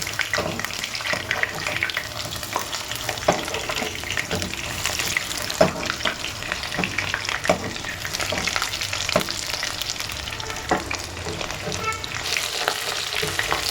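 Chicken pieces fry in refined oil in a pan, a loud, continuous close-up sizzle and crackle with scattered clinks and scrapes as the pieces are turned over one by one, no voices.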